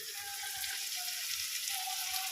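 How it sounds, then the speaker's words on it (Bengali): Onions sizzling in hot oil with dried red chillies as the base for a meat curry, a steady soft frying hiss throughout with no talk. "শুকনো লঙ্কার দিয়ে ফোড়ন দিয়েছি দিয়ে তারপরে পেঁয়াজটা দিয়ে দিলাম"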